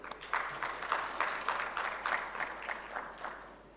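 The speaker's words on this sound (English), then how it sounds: "May we please give another round of applause?" Round of applause from a summit audience after a presentation, a moderately quiet, steady patter of many hands clapping that fades slightly toward the end.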